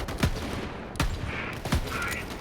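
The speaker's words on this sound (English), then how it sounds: "the sound of that reload is heaven" Weapon handling and shots in Borderlands 3, three sharp close reports about a second apart with metallic clicks between, loud and alone.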